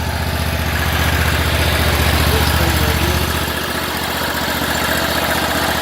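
An Exmark Radius zero-turn lawn mower engine, a 2017 model, runs steadily at a fairly loud, even idle the whole time, with a low rumbling pulse that eases slightly toward the end.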